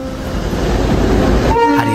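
Darjeeling toy train at Darjeeling railway station rumbles loudly nearby, then a short horn toot sounds near the end.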